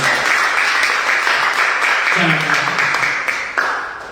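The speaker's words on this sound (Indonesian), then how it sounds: "Berikan tepuk tangan untuk Tuhan." Loud applause from a church congregation fills the space, with a voice briefly audible underneath before the clapping gradually tapers off.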